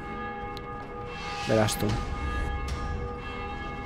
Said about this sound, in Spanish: en las campanas entiendo que suenan cuando se hace de día, cuando se hace de noche